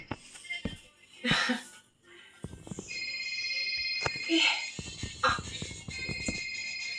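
A mobile phone rings with an incoming call, its sustained electronic tone repeating over several seconds amid nearby voices and rustling.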